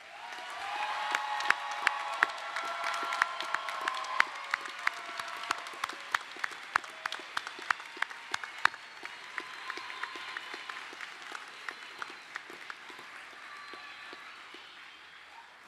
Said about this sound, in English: Everyone, please join me one more time in applauding these graduates.